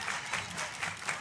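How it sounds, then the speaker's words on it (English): A softball crowd claps in a steady rhythm of repeated beats, a dense, fairly loud wash of many hands in a stadium. "Everybody clap your hands."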